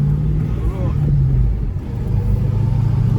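A red Ford Mustang V8 hums in a low, steady drone from inside the cabin while driving, with a brief rise in revs, heard under occupants talking.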